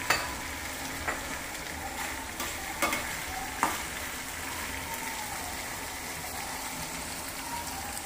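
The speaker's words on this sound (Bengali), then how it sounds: "চিকেনগুলিকে ভালো করে কষানো হচ্ছে।" Chicken kosha fries with tomato in a pan, giving a soft, continuous sizzle with a few sharp utensil scrapes and clacks spaced through it.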